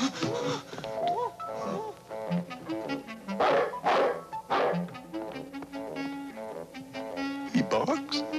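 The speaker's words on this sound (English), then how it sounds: "He barks." A dog barks and yips in several short bursts, close and fairly loud, amid voices and other busy sound from a film scene.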